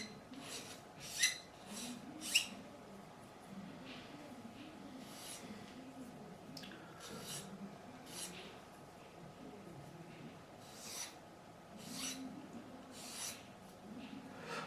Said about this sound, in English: I'll show it in a second once I've gone over with this smooth file